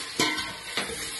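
A spoon stirs a veg manchuria mixture in an oil-coated pan, giving two quick scraping strokes with a soft sizzle underneath, close and alone.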